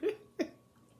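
Two short, sharp coughs about a third of a second apart, close by, followed by quiet breathing.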